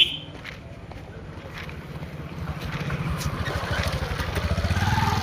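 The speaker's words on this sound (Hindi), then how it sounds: "BMW जा रही है" A BMW drives past with a pulsing engine note that builds steadily louder as it nears, mixed with wind noise.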